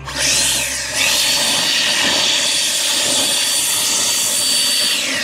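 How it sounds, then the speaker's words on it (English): A Green Machine 62-volt battery leaf blower runs close and loud, a steady high-pitched whine with rushing air, briefly dipping near the start as it sweeps grass clippings back and forth off concrete. "You see I got my Green Machine 62 volt battery blower right here"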